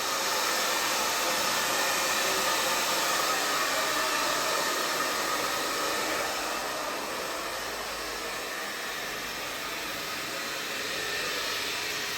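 A hair dryer blows steadily and loudly for about twelve seconds as a continuous broadband whoosh, easing slightly in level partway through, with no talking over it.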